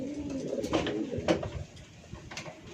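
Domestic pigeons cooing inside a pigeon coop, a few soft, low rolling coos repeating close by over a steady background murmur, no talking.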